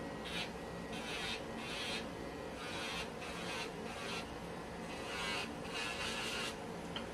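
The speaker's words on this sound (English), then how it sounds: "I am going to try and finish file with my E-File" A Melody Susie Scarlet E-File runs at about 6,000 to 7,000 RPM while filing nails, giving a steady close whir with a soft grinding texture that comes in repeated short passes over a constant motor hum.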